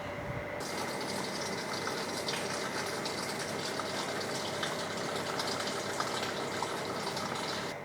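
Water pours into the tank of a hydroponic tower garden as a continuous, close rushing fill that holds steady for several seconds with no voices.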